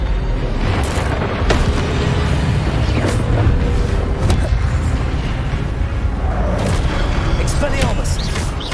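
Booming fiery bursts and crackling impacts from Incendio fire spells cast in Hogwarts Legacy, several loud blasts spread over dense, continuous game combat noise.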